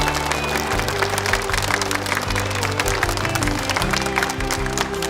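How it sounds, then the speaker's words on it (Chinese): An audience at a university debate final applauds steadily to welcome the competing debate teams, a dense sustained clapping with background music. "用热烈的掌声欢迎他们的到来！"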